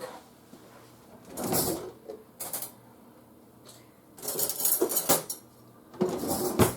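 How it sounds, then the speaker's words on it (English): A fork and knife pulled from a kitchen drawer: bursts of jangling metal cutlery and drawer rattles come in several close clusters, separated by quieter pauses, with no talk. "I'm going to get a fork and a knife because this thing's hot."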